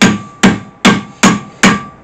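A hammer strikes the front panel of a Renault Clio 2 as it is straightened: five loud, sharp metallic blows at a steady rhythm, each ringing briefly before the next hit, with no talk.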